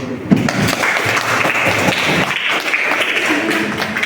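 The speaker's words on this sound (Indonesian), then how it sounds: "Sekali lagi kita aplaus" Classroom applause for a student presentation in a high school chemistry lesson, steady dense clapping from a group filling the room throughout, with a voice briefly audible underneath.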